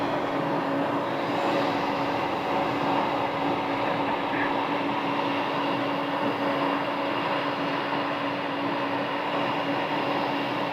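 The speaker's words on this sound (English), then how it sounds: "It's a King Air 200." A 1984 Beechcraft King Air 200 turboprop is heard near an airport in Scottsdale as a steady, fairly loud engine drone with a constant hum. The sound holds at a level roar for about ten seconds without talk.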